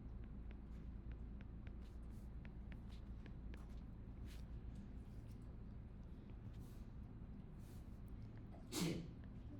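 A single short sneeze bursts out near the end, brief and moderately loud, rising above a steady low room hum with faint scattered clicks and shuffles in a quiet lecture setting.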